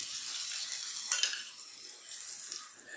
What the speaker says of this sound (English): You can hear it sizzle a little bit.